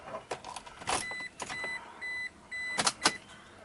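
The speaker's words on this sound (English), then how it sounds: "ignition on" Inside a Toyota Hilux truck with a fuel warning light fault, the ignition switches on with a short series of clear electronic dashboard chimes and beeps, mixed with clicks and brief whirring, close and moderately loud.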